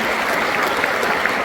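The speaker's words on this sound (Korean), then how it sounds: "다시 한번 큰 박수 부탁드리겠습니다" An audience claps steadily at a formal peace conference anniversary ceremony, dense and continuous applause filling the hall with no voices over it.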